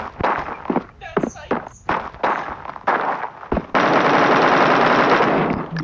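Rapid automatic gunfire in the shooter game Bullet Force crackles in short bursts, then turns into one sustained, loud stream of shots. A voice talks between the early bursts.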